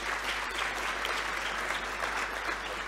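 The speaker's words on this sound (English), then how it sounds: "A huge round of applause" A conference audience applauds steadily, a dense, even wash of clapping at moderate level with a low constant hum underneath.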